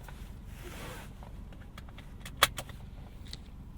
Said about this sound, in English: I'm gonna put my seatbelt on first.